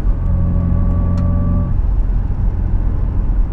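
A 1991 Mercedes 124 200CE with a sport rear exhaust drives through the city, its steady engine drone and road noise humming inside the cabin, the low tone dropping away partway through to a plainer rumble.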